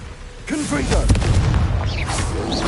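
Confringo fire-blast spell in the wizarding game Hogwarts Legacy, a deep booming burst that rolls on as a rumbling roar, with voices calling out over it.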